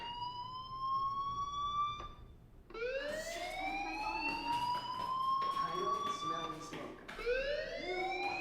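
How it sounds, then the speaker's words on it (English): A fire alarm in the video game Life Is Strange wails in rising and falling siren-like sweeps, repeating for several cycles after a brief gap, steady and fairly loud. "Hey, do you hear that fire alarm? That means you should be outside."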